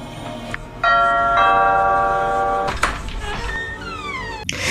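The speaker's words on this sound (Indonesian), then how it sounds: "dikejutkan oleh suara bel yang berbunyi saat ia membuka pintunya" A door bell rings with a sustained ringing tone for a couple of seconds as a door opens, followed by clattering noises and a falling sweep of tones, fairly loud over a busy background with no talking.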